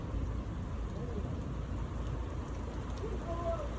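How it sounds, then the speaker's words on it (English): Heavy rain falling in Riyadh, Saudi Arabia, under a stormy sky, a steady close wash of rainfall with faint rumbling underneath. "It's raining heavy in Riyadh now."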